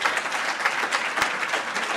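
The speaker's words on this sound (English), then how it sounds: "for a round of applause" A community forum audience gives a round of applause, brief dense clapping from a room full of people, steady and even over the short span.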